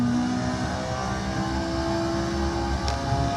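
A car in an Oculus virtual-reality driving simulator game runs with a steady, loud engine drone and tonal whine that hold continuously throughout, with no voices.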